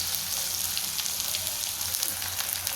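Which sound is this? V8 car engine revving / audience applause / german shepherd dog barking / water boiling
water boiling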